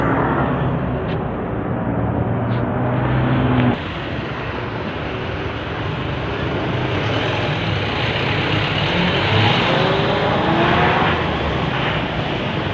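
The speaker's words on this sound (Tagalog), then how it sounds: "Puro kotse ang dumadaan dito mga kamix" Steady stream of cars passing along a busy road, a continuous broad traffic roar with swells as vehicles go by, fairly close and loud, with no voices.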